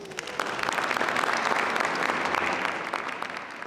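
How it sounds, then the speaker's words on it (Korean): Audience applause fills the hall as dancers in traditional Austrian costume enter for a waltz performance at Greinburg Castle in Grein; dense, steady clapping from many hands lasts throughout, loud and close. "사람들의 박수 속에 무용수들이 입장하고"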